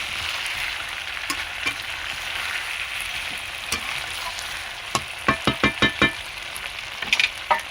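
Chicken pieces and potatoes frying together in a pan, a continuous close sizzle with occasional scrapes, then a quick run of rhythmic spatula strokes against the pan near the end, with no talking.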